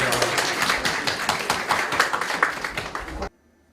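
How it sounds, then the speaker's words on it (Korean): A church congregation claps at a thanksgiving service for a new bishop's inauguration, a dense, fairly rhythmic burst of hand claps that stops abruptly near the end. "영광 박수 올려드리겠습니다"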